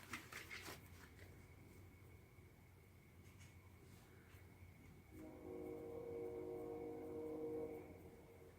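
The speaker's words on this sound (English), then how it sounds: "I don't know if you could hear that. It's a train." A train passes along a nearby track, a low steady rumble that swells into a louder tonal, horn-like drone in the latter half before easing off, heard faintly indoors.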